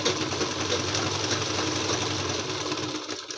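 Sewing machine running steadily while stitching a single seam along the folded edge of a heavy Patiala dhoti salwar, a fast continuous mechanical whir and rapid needle patter, close and alone, cutting off at the end.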